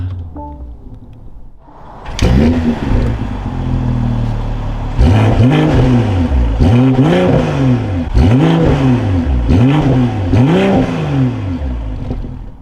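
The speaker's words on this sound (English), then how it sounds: "keeping my foot on the brake, we can go ahead and fire it up" A 2024 BMW M340i engine cranks and fires up from inside the cabin, then settles into a steady idle with a series of rhythmic rising revs, loud and close with no talk.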